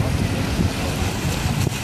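Strong wind buffets the microphone at the seashore in Santos, Brazil, with steady low rumbling gusts and surf noise filling the short stretch without a pause.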